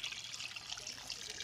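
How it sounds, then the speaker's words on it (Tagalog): Water pours from a dipper into a cooking pot of mangrove shells, a steady close trickle and splash running without a break. "tagay natin siya ng tubig"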